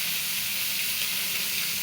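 Puti fish frying in hot oil, a steady bright sizzle and hiss that holds at an even level throughout, close and without voices.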